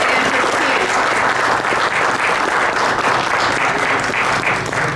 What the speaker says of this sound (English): Let's give Mike another round of applause.